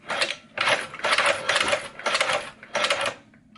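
A Chinese leather shoe patcher sewing machine running in loud, close bursts of rapid mechanical stitching, about six runs separated by brief pauses, with no talk over it.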